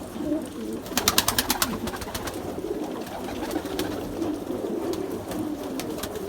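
Pigeons coo softly in a coop on a rainy evening in Izmir, with low murmuring calls under steady rain, broken by a burst of rapid wing flaps or clatter nearby.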